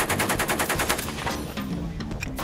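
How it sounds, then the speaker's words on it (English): An automatic gun fires from the hip in a rapid, loud, close burst of evenly spaced shots, then the firing breaks into a few scattered, fading reports. "Kind of like Vietnam, Navy SEAL era, shoot from the hip, Rambo type of"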